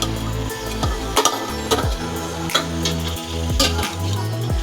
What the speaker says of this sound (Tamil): இப்போ தக்காளியை வந்து நல்லா இப்போ வதக்குவோம்